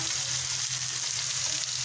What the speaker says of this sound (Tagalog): Yan nagpiprito ako